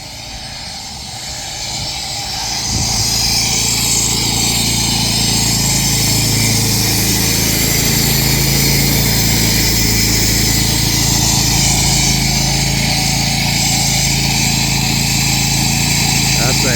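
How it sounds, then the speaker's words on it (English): A heavy-duty saw cuts into a freshly poured concrete pad, building up within a few seconds to a loud, sustained, steady engine whine and grinding roar that goes on without a break. "That's a heavy duty saw."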